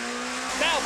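British Touring Car Championship race cars at about 110 mph into Druids at Brands Hatch, including a Nissan Primera, give a loud, sustained engine roar with a rising whine near the end, under a commentator's voice.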